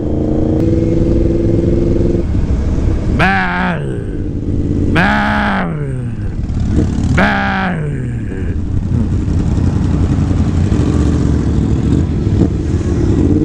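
A motorcycle with loud exhaust pipes at Sturgis rumbles at idle close by, then blips the throttle three times in sharp, rising-and-falling revs before settling back to a throaty idle.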